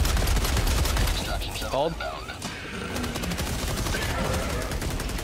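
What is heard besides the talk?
Gatling sentry turret firing in the video game Helldivers 2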